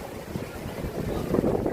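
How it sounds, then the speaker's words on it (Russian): Strong wind buffets the microphone at a beach with huge waves surging beneath, a continuous rough roar with no talking. "Это просто сумасшедший ветер и огромнейшие волны."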